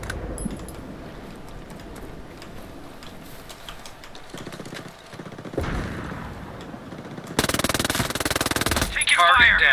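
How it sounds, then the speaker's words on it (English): Enemy gunfire in the tactical shooter Ghost Recon Breakpoint, a dense rattle of automatic bursts and scattered shots that swells louder toward the end, with game voices talking over parts of it. "Hostiles are shooting."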